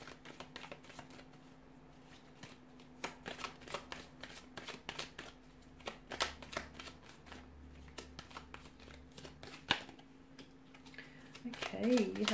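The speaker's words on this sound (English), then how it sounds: "So I'll give the cards a shuffle and see what's coming in." Tarot cards are shuffled by hand in quick, crisp riffles and taps that run nearly the whole time, close and fairly quiet. A voice comes in briefly at the end.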